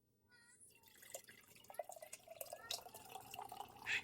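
Watermelon juice with mint and lemon shavings poured into a glass, a steady trickling splash that builds and continues for several seconds, fairly close and clear with no talking.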